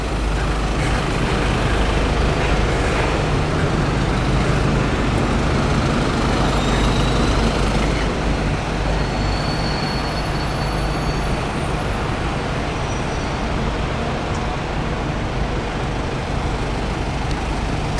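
Steady outdoor city roar at Charing Cross station in London, with road traffic and trains blending into a continuous, fairly loud wash of engine rumble and passing vehicles, no voices standing out.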